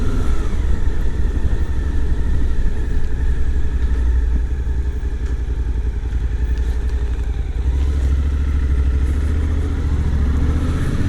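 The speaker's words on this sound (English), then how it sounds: "I'm going to go for a little ride through the Hondon Valley" Motorcycle riding along country roads through the Hondon Valley on the Costa Blanca in Spain, a loud continuous engine drone with rushing wind and slight shifts in pitch, heard close from on board with no voices.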